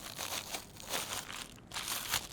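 Crinkly plastic film wrapping from a Shine Muscat grape package being pulled and torn apart by hand, steady close rustling and crackling in short bursts with no talk.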